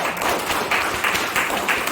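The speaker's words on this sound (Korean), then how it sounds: "바쁘신 가운데 귀한 걸음 해주신 김명자 장관님을 큰 박수로 모시겠습니다." A lecture audience gives a dense burst of clapping to welcome a former environment minister to the stage. The applause is loud and continuous, with a close, bright wash of many hands.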